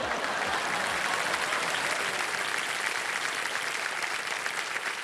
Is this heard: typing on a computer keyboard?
no